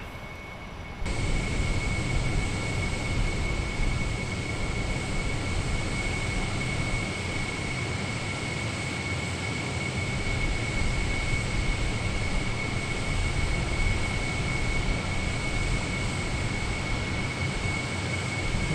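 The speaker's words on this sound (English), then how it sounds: "So we're just going to wait for engine number 1 to finish coming alive." British Airways Concorde engine number one spooling up during start in Microsoft Flight Simulator, a loud, steady roar with a sustained high whine that sets in abruptly and holds evenly throughout.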